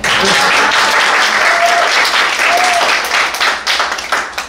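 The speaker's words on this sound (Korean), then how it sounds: "박수 쳐주겠습니다." Steady audience applause following a web project team's presentation, dense clapping filling the room at close range, continuous and loud before tapering slightly toward the end.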